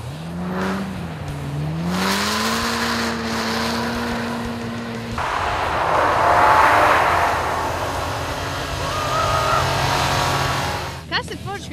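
A car driving on frozen lake ice, its engine droning and rising in pitch as it accelerates, then a broad rushing hiss of tires and wind, loud and continuous for several seconds.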